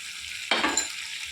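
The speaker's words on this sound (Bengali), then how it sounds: "পটল চিংড়িটা মিলিয়ে দিলাম, দিয়ে একটু নেড়ে চেড়ে নেড়ে মিশিয়ে" Pointed gourd and prawns stirred in a frying pan, a quiet sizzle broken by one quick scraping stir of a spatula, close but soft and brief.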